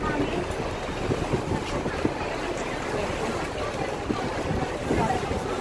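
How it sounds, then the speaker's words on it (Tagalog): Wind buffets the microphone outdoors in a continuous rough rush, with occasional gusts and faint voices beneath. "Mabuti na hangin siya, pero yung hangin niya, mainit."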